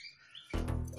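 Rasmi canary giving a quick burst of bright chirps and trills, close and clear after a moment of near quiet, lasting only about half a second.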